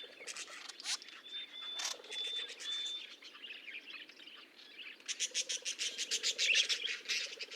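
Small pet budgerigar parrot chirping, with bright, rapid tweets and chatter that turn into a quick run of repeated chirps near the end. The calls are close and moderately loud, with no one talking.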